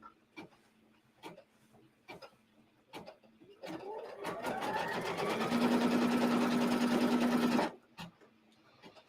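An embroidery sewing machine stitches a vertical trimming and placement line on a Halloween-themed sewing project, a loud steady mechanical whir and rapid needle chatter running for several seconds between sparse clicks and handling noises.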